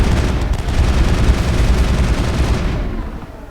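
Sustained, loud gunfire and heavy booming rumble from Mass Effect combat on the planet Feros, a dense continuous barrage that eases off slightly near the end.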